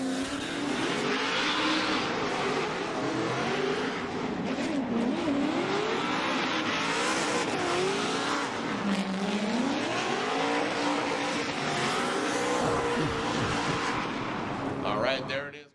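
Formula Drift car running hard through a battle run, its engine howling with rising and falling revs over continuous tire squeal and crowd-level noise, loud and sustained, with a commentator talking throughout.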